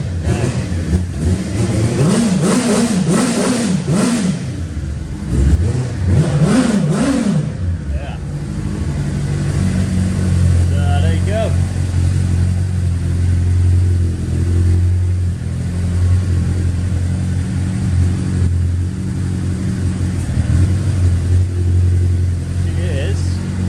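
A VW Corrado VR6 turbo engine, cold and running on its original throttle, revs in two rising and falling bursts near the start, then settles into a steady, loud idle drone.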